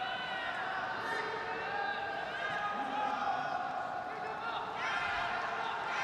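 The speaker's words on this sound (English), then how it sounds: "I can hear her team cheering right behind us here, Team Singapore, cheering on their teammate." Team Singapore supporters cheering at the World Wushu Championships during a taijijian session, a steady crowd roar with raised voices and a brief swell near the end, heard under close commentary.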